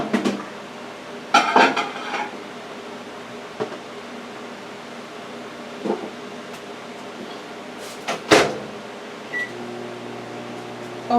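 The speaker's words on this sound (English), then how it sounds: "Now I'm gonna put it in the microwave on" Microwave oven heating barbecue goat bites, a steady low mechanical hum throughout with occasional clinks and clatters of dishes nearby.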